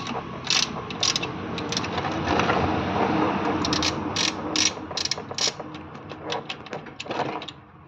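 Ratchet wrench loosening the gear oil drain nut on an Alto 800 during a service, giving rapid runs of close clicking pawl ticks in bursts with short pauses, no talk over it.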